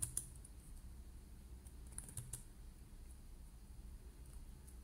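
Computer keyboard typing used to drive a robot by teleoperation: a few scattered, quiet key clicks over a low background hum, with no one talking.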